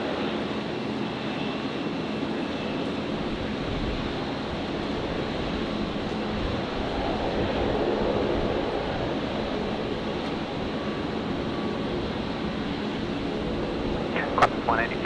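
An airliner arriving at Brisbane airport on the long flight from Doha makes a distant, steady jet roar under wind noise, with people talking over it.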